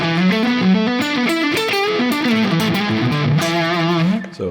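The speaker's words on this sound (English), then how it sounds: "and then add some extra distortion to it." An electric guitar plays through a Tech 21 Richie Kotzen Signature OMG pedal, with a gain boost stacked with extra distortion, giving loud, saturated sustained notes and shifting melodic lines that ring out alone.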